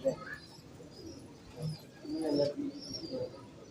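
Soft, low pigeon coos repeat in short throaty bursts, close by and fairly quiet, with a little background noise.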